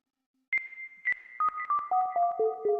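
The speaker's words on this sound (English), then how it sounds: "So kind of like an echoey, delayed little bleep, blorp, bleep, blorp." An echoey, delayed bleep synth preset from Beatmaker 3 plays a sequence of short, bright electronic tones that step downward in pitch, each note repeating as a fading echo, clean and alone with no talk.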